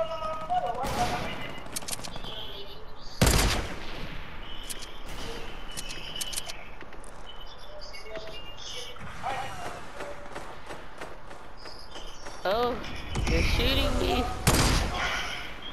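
Gunfire in a video game, with scattered loud shotgun-like blasts and bursts of shots breaking out at intervals amid mechanical clanks and background game noise, with a voice talking at times.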